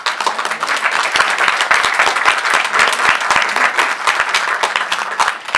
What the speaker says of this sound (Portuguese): E esse agradecimento só com uma salva de palmas por essa oportunidade